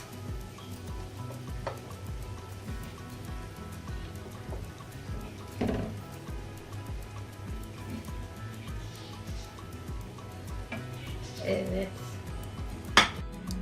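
Chicken sac kavurma is served onto a plate with soft clinks and scrapes of utensils against dishware, scattered and light, with one sharper knock near the end, while a person talks.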